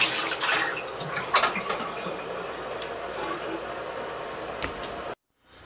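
Water drains and trickles out of a Keurig Office Pro K155 coffee machine, a steady wet patter with a few drips and small knocks, close by, before stopping abruptly.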